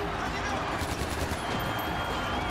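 Enemies shoot each other in the video game Far Cry 4, producing dense continuous gunfire that stays loud and steady throughout, with no clear separation between shots.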